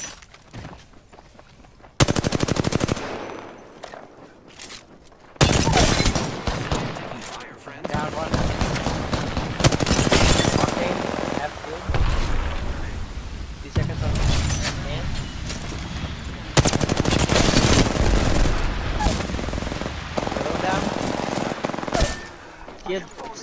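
Bursts of automatic gunfire ring out in an Apex Legends match, loud rattling volleys coming in several separate stretches with short gaps, while players talk over the shooting.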